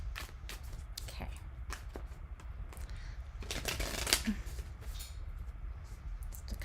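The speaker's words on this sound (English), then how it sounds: "Just a couple more shuffles." Tarot cards being shuffled by hand, a series of soft riffling and slapping bursts at close range, with a louder flurry partway through and quiet room tone between.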